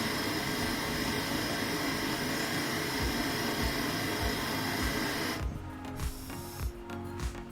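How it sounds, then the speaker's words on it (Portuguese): A gas torch without a deflector brazes the suction tube of a refrigerator, a loud, steady roaring hiss that stays constant for several seconds and then drops away, leaving faint clicks and handling noises. "ele resolveu fazer a solda agora sem o defletor"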